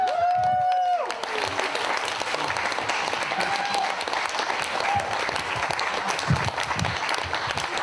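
Sustained crowd applause at a wedding reception dinner, dense and even throughout, with a voice speaking over the opening second and scattered cheers.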